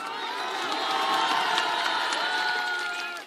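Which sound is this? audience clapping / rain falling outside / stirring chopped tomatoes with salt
audience clapping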